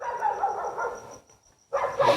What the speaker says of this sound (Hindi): तो ये जो कुत्ता भौंक रहा है कब से